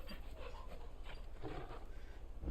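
Torgal, the wolfhound companion in Final Fantasy XVI, pants in close, quiet breaths with a faint whimper, steady and rhythmic for a couple of seconds against low game ambience.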